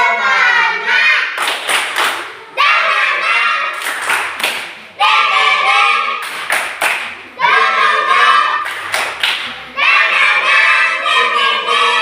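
Primary-school children in a classroom perform the 'tepuk semangat' clapping chant together, loud rhythmic bursts of clapping and thumping in repeated phrases, chanting voices carrying between the claps.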